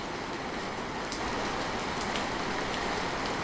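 Steady rain falls continuously, a dense even hiss of drops with a few brighter patters, loud and unbroken with no voices.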